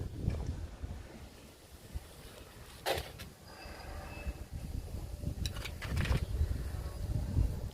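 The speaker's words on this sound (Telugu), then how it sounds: "చల్లని గాలి వస్తుంది బాగా" Steady cold wind rushes and gusts against the microphone in a garden, a low continuous roar with brief louder swells and no voices.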